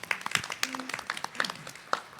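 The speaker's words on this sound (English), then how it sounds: "everybody give her a round of applause" A room full of people clapping at a Texas Real Estate Commission meeting, a brisk, uneven patter of applause at moderate volume, with a faint voice underneath.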